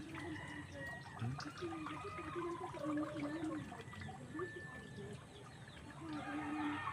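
Chickens cluck and squawk continuously nearby, layered over steady outdoor background noise.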